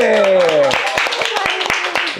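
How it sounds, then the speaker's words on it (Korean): An audience at an interview event in Japan claps in quick, uneven bursts of sharp hand claps, which start just after a brief spoken voice and carry on to the end. "박수 해주시기 바랍니다"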